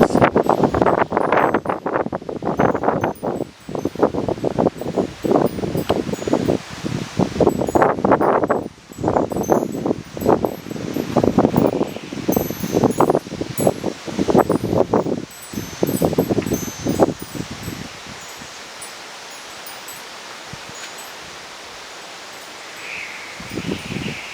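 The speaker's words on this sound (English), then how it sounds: "Hear that wind blowing. So a lot of wind whistling there." Strong thunderstorm wind in southeastern Pennsylvania gusts outdoors in repeated loud, rushing surges that buffet the microphone with rustling, then eases to a softer, steady breeze near the end.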